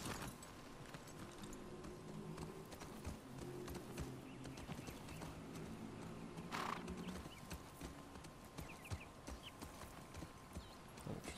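Horse hooves clip-clop in a steady walking rhythm in The Last of Us Part II, moderately close, with a brief snort or whinny midway over quiet outdoor ambience.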